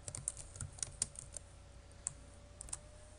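Typing on a computer keyboard while entering Python code in the IDLE editor, a run of close, light clicking keystrokes in irregular bursts against a quiet background.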